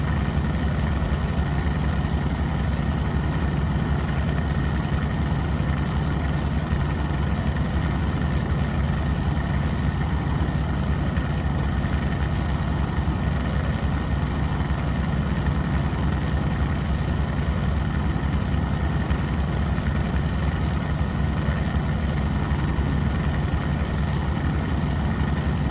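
A Goose amphibian aircraft's engine drones steadily in Microsoft Flight Simulator 2024 on a flight toward Alcatraz, a constant low hum with a faint tonal whine that runs unbroken, even and moderately loud, with no voices.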